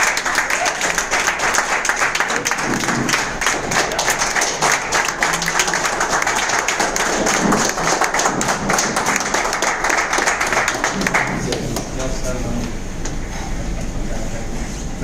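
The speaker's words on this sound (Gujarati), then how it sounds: "જોરદાર તાળી સાથે વેલકમ કરીશું" Hotel meeting crowd welcomes senior distributors with loud, vigorous applause, a dense continuous clatter of many hands that carries on for several seconds before thinning out toward the end.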